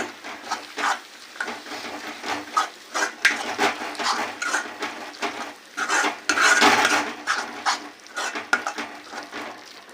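A spoon stirs egg curry with chili powder, green chilies and dried red chilies in a metal pan, scraping and clinking in an irregular rhythm with soft sizzling, close and fairly quiet, no voices.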